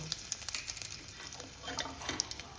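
Cumin, coriander and two black peppercorns brown in hot oil with a soft, faint sizzle, punctuated by small crackles and pops as a spoon stirs them.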